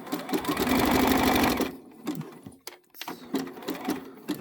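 A sewing machine runs a steady, fast stitching burst on purple costume fabric for about a second and a half, then stops, leaving scattered handling clicks and rustles close by.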